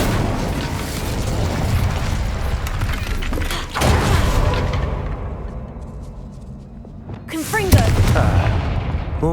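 Incendio fire spell cast in the Hogwarts Legacy video game, a whooshing, roaring burst over dense game noise with rumbling booms, and a voice briefly speaking.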